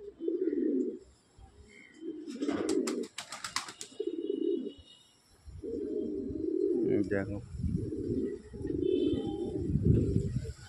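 White pigeons coo in low, rolling bursts through most of the stretch, with a brief flutter of wings partway in and someone speaking over the birds.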